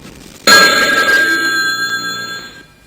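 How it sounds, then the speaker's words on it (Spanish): A telephone rings for a sound-matching game, a loud, bright, tonal bell that begins suddenly and holds steadily for about two seconds before stopping. "Teléfono."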